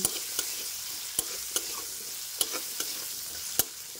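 Potatoes fry in a pan on a low flame as a utensil stirs through them, giving a steady close sizzle broken by several sharp scraping clicks at uneven intervals, with no talking.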